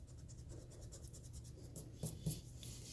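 A pencil sketching and rubbing on paper while an isometric drawing is made: soft, rapid scratching strokes at close range, ending in two brief louder rubs.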